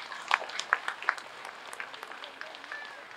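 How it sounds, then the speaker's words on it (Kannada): Audience applause at a public speaking event, a scattered patter of hand claps with a few sharper individual claps early on, fairly quiet and fading into a thinner trickle of clapping. "ಅವರಿಗೆ ಚಪ್ಪಾಳೆ ಹೊಡಿಬಾರ್ದ?"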